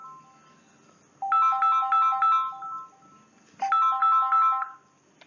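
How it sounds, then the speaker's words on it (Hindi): A mobile phone ringtone goes off during a biology lecture, a bright electronic melody playing in two loud, evenly spaced bursts with a short gap between them in an otherwise quiet room. "जब फोन आ रहा है मैं इसको साइलेंट कर दूं"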